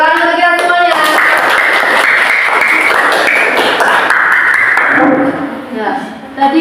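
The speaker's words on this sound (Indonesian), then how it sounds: "Alhamdulillah, tepuk tangan untuk kita semuanya." A class of students applauds together in a classroom lesson, a sustained burst of clapping lasting several seconds, with voices and a few tones at the start and end.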